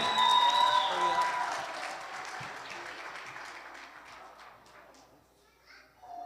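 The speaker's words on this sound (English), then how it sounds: "Let's clap for them again." A church congregation at a Sunday service claps for a children's choir, a loud burst of applause that gradually fades over several seconds, with children's voices and scattered chatter underneath as it dies away.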